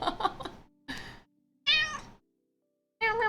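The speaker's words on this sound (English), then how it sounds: "She's a very good kitty." A pet cat named Betty meows several times, loud and close, each cry drawn out, with short quiet gaps between them and no other sound.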